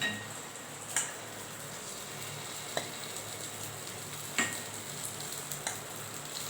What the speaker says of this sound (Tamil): இப்போ நம்ம கொஞ்சம் எடுத்து மாவை நான் ஊற்றிட்டு அதையும் எடுத்து காமிக்கிறேன்